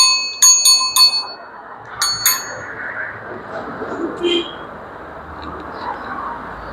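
A bicycle bell rings in several quick bright dings, then a second burst, on a used bike with aluminium parts, plastic fenders, a dynamo and front fork, over a hushed outdoor background.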